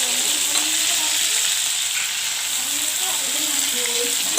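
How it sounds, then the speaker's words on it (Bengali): Large prawns frying lightly in hot oil for a Bengali prawn curry, a constant bright sizzle that holds steady and loud throughout, with faint low sounds beneath and no talk. "তো এখন আমি চিংড়ি মাছটা হালকা করে ভেজে নেব।"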